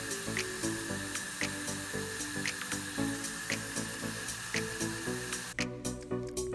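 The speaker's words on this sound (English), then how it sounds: "I'm going to go ahead and give her one spray of MSC outside." A single burst of MSC sealant aerosol is sprayed onto a repainted doll outdoors, a short hissing spray near the end over steady rhythmic background music.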